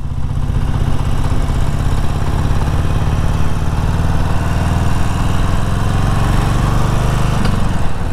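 A stock Harley-Davidson Forty-Eight motorcycle engine while riding: a loud, continuous low rumble with a throbbing pulse, steady throughout with wind-like noise mixed in, no speech.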